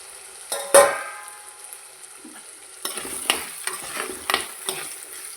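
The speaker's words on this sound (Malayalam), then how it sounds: "ഇതൊന്ന് ഇതിനകത്തിട്ട് നന്നായി ഒന്ന് വഴറ്റിയെടുക്കാം" Chicken sautéed in a pan with onion, with a steady sizzle and repeated scraping stirs of a utensil against the pan, one louder clack early on, close and clear with no talk.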